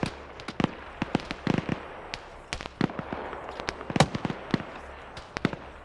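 Scattered sharp cracks of a .50 cal machine gun in a military video game, irregular single shots and short bursts popping at a distance over a low background.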